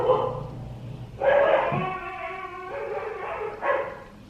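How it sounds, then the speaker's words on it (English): Husky dogs bark and yowl in a few loud, close bursts, with howling yips between shorter calls. "My dogs are gonna start barking."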